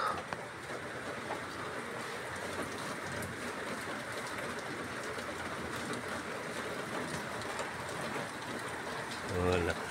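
Heavy rain pours down as a dense, steady hiss of drops drumming on surfaces nearby, continuous and loud for the whole stretch.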